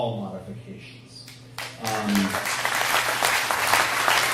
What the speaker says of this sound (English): a sentence that technical and dull has never gotten applause in the history of humanity before